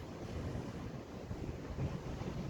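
Strong, steady wind roars and buffets the microphone on a stormy beach at New Brighton, with a dense, constant rush that may also carry surf, and no one speaking.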